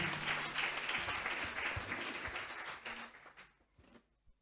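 Studio audience applauding and cheering for God Grace TV, a dense wash of clapping that fades away toward the end, with a few scattered claps trailing off.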